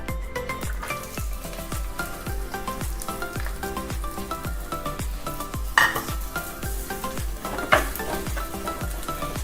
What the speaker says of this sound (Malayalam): എണ്ണ ചൂടായി കഴിയുമ്പോൾ നമുക്ക് ഉള്ളി ഇട്ട് കൊടുക്കാം.